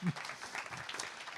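Audience applause at an awards ceremony, a steady dense patter of clapping from a crowd filling the short stretch at moderate level, with a low thump at the start.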